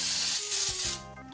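Baker's Joy baking spray hisses into a baking dish in one continuous close burst before cutting off, with a faint tonal hum underneath.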